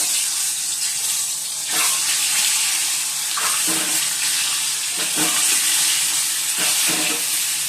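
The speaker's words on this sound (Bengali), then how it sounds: "কড়াইতে তেল দিয়ে দিয়েছি, গরম হয়ে গেছে, একটুখানি হলুদ দিয়ে দিয়েছি। আর চলো ডিমগুলো ভেজে নিই।" Eggs fry in hot oil with a little turmeric in a wok, giving a loud, steady close sizzle with a few sharper crackling bursts and no talk.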